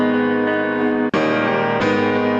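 A sustained thin, bright, heavily high-passed piano chord rings out, abruptly cut and restarted twice in choppy segments.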